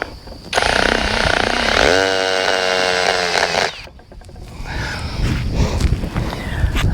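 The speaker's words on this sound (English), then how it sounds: "Let's screw this board in there to hold it up." A power driver runs a screw through a board into a fence post for a brace, a loud steady whir with rising pitch for about three seconds, then quieter clatter and handling noises outdoors.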